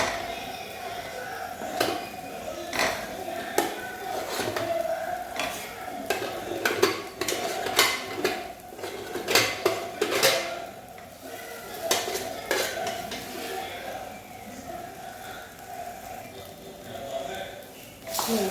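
Cooked tapioca stirred and tossed in a cooking pan with a spoon for a Kerala-style stir-fry, making steady close scraping and clinking against the pan with a soft sizzle underneath and a voice talking at times.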